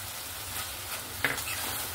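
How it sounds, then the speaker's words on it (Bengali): Banana flower curry with fried prawns being stirred in a pan, a soft continuous sizzle with a brief utensil scrape partway through, close and fairly quiet. "আমি এবার ঢাকনাটা খুলে নেব, আবারও ভালো করে নাড়াচাড়া করে নিচ্ছি।"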